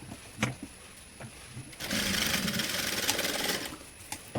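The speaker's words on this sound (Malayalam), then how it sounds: "ശേഷം നമ്മൾ ഈ ഒരു ആം ഹോളിൻ്റെ ഈ ഒരു കേവ് ഷേപ്പിലുള്ള ഈ ഒരു ഭാഗത്ത് സ്റ്റിച്ച് ചെയ്തിട്ട് ഇട്ടെടുക്കുക കേട്ടോ" A sewing machine stitches the curved armhole of a kids top, a few soft clicks and handling noises, then a steady mechanical whirring run of about two seconds, close up.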